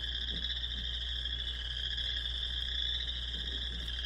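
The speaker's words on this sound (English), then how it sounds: "that's what the chorus frog call sounds like" Multiple chorus frogs trill in a continuous creaking chorus outdoors in North Dakota, steady and moderately loud over faint wind rumble.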